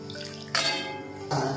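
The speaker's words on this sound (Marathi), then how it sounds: "पाणी टाकायचं आपल्या अंदाजाने" Water poured into a pot of spicy village-style vegetable curry, bursts of splashing and gurgling liquid that start and stop, close and moderately loud over a low kitchen background.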